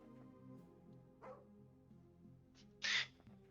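A dog barks in the pixel-art role-playing game SKALD: Against the Black Priory: a few short, quiet barks over soft game music, the last bark louder and sharper.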